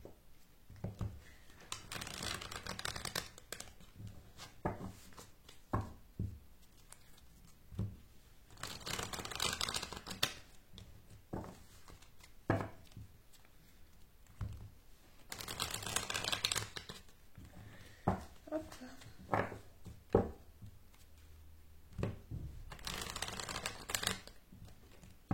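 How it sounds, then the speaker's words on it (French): Tarot cards are shuffled in repeated bursts of crisp riffling and slapping, close and fairly quiet, with short pauses between rounds over about twenty-five seconds. "Donc je vais les remuer bien comme il faut en arrière caméra."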